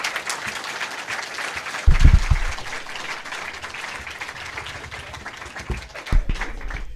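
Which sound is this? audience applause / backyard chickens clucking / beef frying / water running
audience applause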